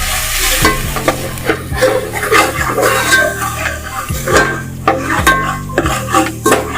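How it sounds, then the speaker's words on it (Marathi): Coconut is stir-fried in oil in a pan over a medium flame, the spatula scraping and clanking against the metal in quick repeated strokes over a loud, close sizzle. "गॅस मीडियम फ्लेमवरती ठेवलेला खोबरं चांगलं तेल सुटेपर्यंत परतून घ्यायचं"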